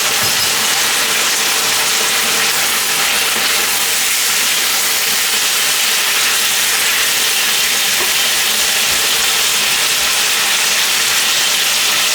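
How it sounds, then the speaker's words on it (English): Chicken wings stir-fry in an uncovered pan, a loud unbroken sizzling hiss that fills the whole stretch, steady and close with no talking. "I'm just going to keep on stir frying this with the lid uncovered"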